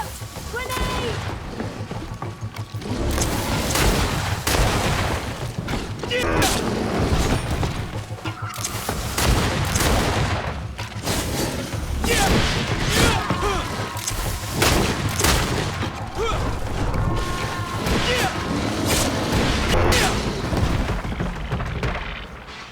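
Grenade blasts and bursts of gunfire ring out during a skirmish in the GreedFall video game, dense and loud across the whole stretch, with repeated booms and rapid shots layered over continuous battle noise.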